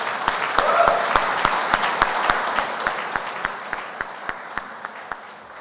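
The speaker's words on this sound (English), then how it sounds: "Let's give them a warm round of applause." Audience applause fills an awards ceremony hall, a dense sustained wash of clapping with a steady series of sharp, regular beats cutting through it, strongest early and slowly tapering over several seconds.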